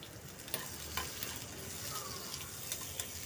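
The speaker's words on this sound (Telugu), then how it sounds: "ఉల్లిపాయలు వేసుకుని ఒకటి, నూనె కొద్దిగా వేసుకుందాం, మంచిగా ఫ్రై చేద్దాం" Onion and tomato frying in a little oil, a soft close sizzle punctuated by a few light spatula scrapes and taps, quiet and without talk.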